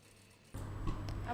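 A sewing machine starts abruptly and stitches a seam along a garment vent, a steady close mechanical hum with a rapid needle rhythm and no voices.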